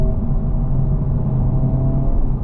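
A 2023 Honda Civic Type R heading down a winding hill gives a steady low engine rumble with road and tyre noise, heard from inside the cabin with no one talking.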